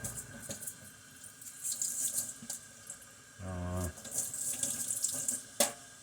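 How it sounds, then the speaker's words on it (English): A toy action figure is rinsed under a running kitchen tap, with steady splashing water and a brief gurgle partway through, close and moderately loud. "I'm going to go ahead and rinse him off."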